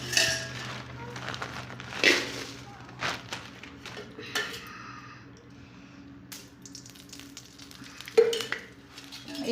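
Dried red chilies roast in a pan for homemade chili powder, a quiet sizzle with intermittent scraping stirs and light metallic clinks of a spoon against the pan.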